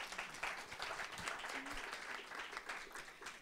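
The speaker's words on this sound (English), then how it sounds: "Round of applause." An audience at a debate on whether TV is dead to young people gives a round of applause, a dense, even patter of many hands clapping, heard faint and distant for a few seconds.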